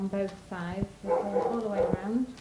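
Dogs bark and whimper indoors in a home kitchen, several sharp yips and harmonic barks in quick bursts, heard close by beneath a woman's ongoing speech.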